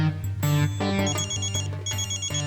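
A phone ringtone plays a repeating electronic melody, steady and fairly loud, with no voices over it.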